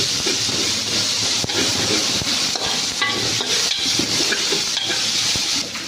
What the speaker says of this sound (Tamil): இஞ்சி பூண்டு பச்சை ஸ்மெல் போகிற வரைக்கும் கொஞ்சம் சாட்டை பண்ணிப்போம்.